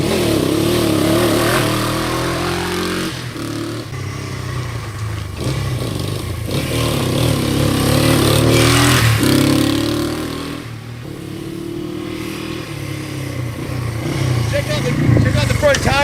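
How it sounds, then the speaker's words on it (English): A Honda SL350 motorcycle's 350cc four-stroke parallel twin with dual carbs and dual exhaust rumbles and revs for a long stretch, rising and falling in pitch close by, with clattering and a voice over parts of it. "the motor on this thing, 350, 4-stroke twin, dual carb, dual exhaust"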